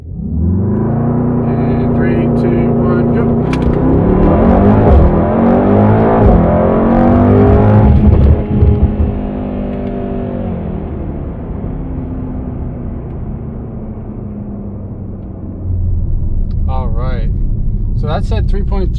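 A Mercedes-AMG GT 63S launches at full throttle for a 0-60 run, its engine roaring loudly and climbing through rising gear pulls, then easing to a steadier drone before revving up again, heard from inside the car.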